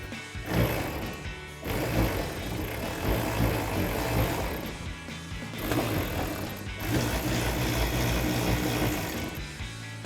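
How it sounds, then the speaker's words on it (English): A ratchet with a 10mm socket tightens a headlight bolt on a 2012-2015 Toyota Tacoma, giving rapid continuous clicking pawl strokes in long runs with short pauses, close and steady. "then we'll grab our ratchet and 10mm socket and tighten that down"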